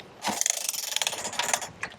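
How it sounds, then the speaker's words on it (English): A boat trailer winch is cranked by hand at a boat ramp, producing a quick run of close ratcheting clicks and mechanical rattling for over a second before it stops. No one speaks. "You start cranking it."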